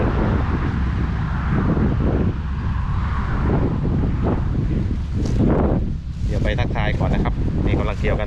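Wind gusting across a rice field during a traditional hand harvest, buffeting the microphone in a loud, continuous roar, with scattered voices and brief bright sounds toward the end.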